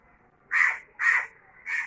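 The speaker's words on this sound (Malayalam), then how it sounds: "കാക്ക കരയുന്നുണ്ട്, ഞാൻ പറഞ്ഞില്ലേ." Crows cawing in a quiet outdoor setting in the afternoon, three distinct harsh caws spaced about half a second apart, fairly close and clear against near silence.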